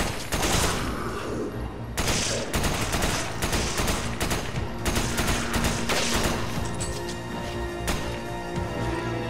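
Dense, loud gunfire in the video game Resident Evil 5, fired in rapid continuous bursts with only brief gaps, nearly filling the whole stretch.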